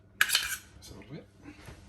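A metal spoon clinks and scrapes briefly against a cooking pot as ginger and garlic paste are stirred in for chicken biryani. A few quick, fairly quiet taps come close together, then a soft scrape.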